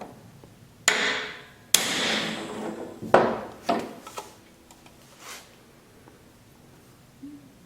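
Hammer blows setting rivets on an EH Scott Philharmonic radio chassis: a few sharp metallic strikes, close and fairly loud, spaced irregularly with short ringing decays and quieter taps between.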